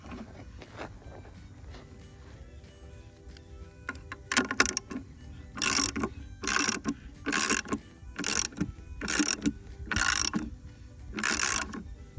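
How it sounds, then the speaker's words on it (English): A ratchet wrench clicks in bursts while bolting down a timber sill on a timber-framed barn, starting faint, then giving several loud, evenly spaced rounds of rapid ratcheting up close. "So I will bolt this down and I'll get the rest of these sills up."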